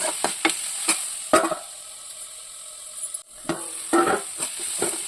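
Spoon stirring jackfruit seed rasam with salt in a pot, scraping strokes and faint sizzling, several irregular knocks against the metal then a pause before more stirring, close and alone.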